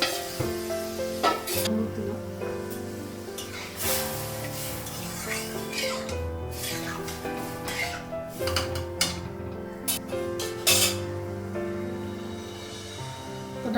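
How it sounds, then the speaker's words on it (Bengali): Boiled lentils hit a hot tempering of oil, panch phoron and chillies in a kadai, setting off a loud, sustained hissing sizzle broken by repeated stirring scrapes and clatters, close up with no speech. "ডালটা লাগালাম"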